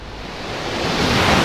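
Broad, steady wash of Mediterranean surf near Alicante, Spain, that swells slightly louder toward the end, with no voices over it.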